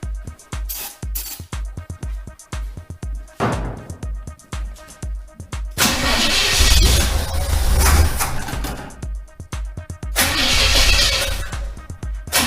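A 1938 Chevy truck engine being revived, with a steady mechanical ticking followed by two loud, rough bursts of cranking and sputtering, the first lasting several seconds and the second shorter, heard up close.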